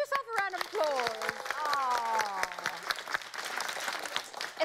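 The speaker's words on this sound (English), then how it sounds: "Give yourself a round of applause" Studio audience clapping on a live morning show, a crowd of hands patting under a voice and some tonal music or speech, moderately loud and steady across the clip.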